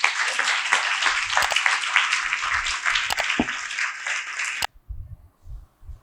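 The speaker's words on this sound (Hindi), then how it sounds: "आए जोरदार तालियां बजाएं।" Congregation at a church service breaks into loud, sustained applause for several seconds, then cuts off abruptly into quiet with a few low thuds at the end.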